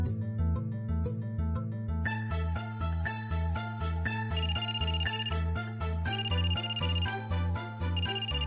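Telephone ringtone in a Marathi TV serial scene, a repeating melodic electronic tune with a steady bass pattern and bright chiming notes, playing alone without voices.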